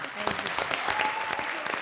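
Studio audience applause on a TV comedy show, steady dense clapping with a few cheers, loud and close throughout.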